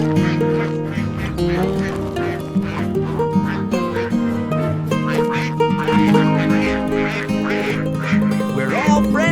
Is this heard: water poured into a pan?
no